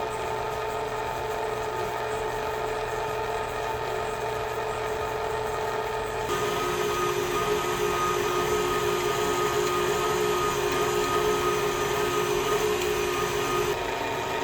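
An electric mixer beats cream cheese banana bread batter with a continuous motor whir. The whir shifts to a higher, busier pitch midway when the speed increases.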